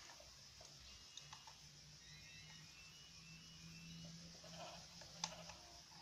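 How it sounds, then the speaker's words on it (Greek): A sheep in Minecraft on PS3 bleats faintly a couple of times over a quiet, hissy game background, with light ticking clicks. "Ωραία πρόβατο."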